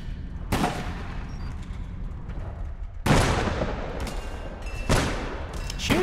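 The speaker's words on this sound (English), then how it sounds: "I was shooting him, it's not hitting him" Gunshots in an online action shooter game ring out as a few sharp, loud cracks spaced several seconds apart over a rumbling background of distant gunfire.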